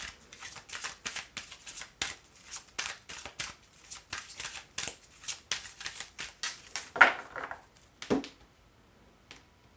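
Playing cards being shuffled by hand during a tarot card reading, a rapid run of crisp riffling flicks that lasts several seconds, then a few final snaps and quiet.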